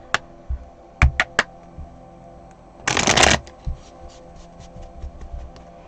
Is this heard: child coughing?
no